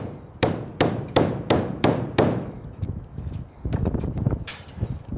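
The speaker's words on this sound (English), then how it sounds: "Hammer that down tight." Six sharp, ringing hammer blows strike at a steady pace on a tower construction site, followed by a rougher stretch of clattering knocks and scraping nearby.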